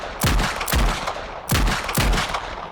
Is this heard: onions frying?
no